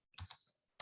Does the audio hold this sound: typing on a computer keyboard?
yes